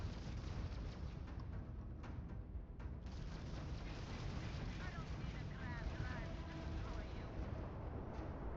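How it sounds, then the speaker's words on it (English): Ship engines run at full power in the Scarab video game, a dense, loud, continuous roar with a few sharp knocks and a faint warbling tone midway. "fully power the engines"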